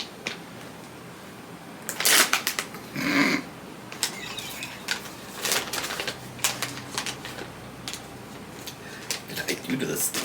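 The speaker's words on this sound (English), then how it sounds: "Rip it open" Crinkly plastic packaging of chocolate toffee pretzels being torn open, with bursts of rustling and ripping up close, mixed with people chatting on a couch.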